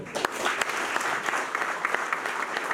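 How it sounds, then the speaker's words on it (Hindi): Audience at a university pharmacy national conference claps steadily, a dense patter of hand claps with a few sharper individual claps standing out, fairly close and sustained throughout. "इसके लिए आप सब खुद के लिए ताली बजा लीजिए।"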